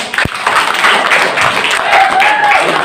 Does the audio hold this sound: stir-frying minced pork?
no